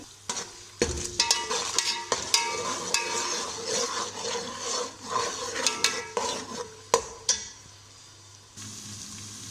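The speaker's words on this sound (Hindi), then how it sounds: "अब इसको भी हम अच्छी तरह हल्का फ्राई कर लेंगे" Onion, ginger and garlic paste sizzles in a hot pan while a metal spoon scrapes and clinks against it in repeated stirring strokes, close and fairly quiet.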